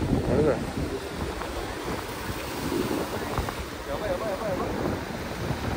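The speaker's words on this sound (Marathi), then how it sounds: "आणि ज्या लाटा वेव येत आहेत, हा रॉक गार्डन आहे" Ocean waves at Rock Garden in Malvan, a continuous wash of surf mixed with gusty wind buffeting the microphone, steady and fairly close, with voices faintly present in the background.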